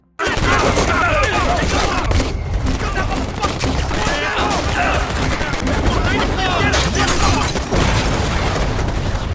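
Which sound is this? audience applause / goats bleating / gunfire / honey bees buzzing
gunfire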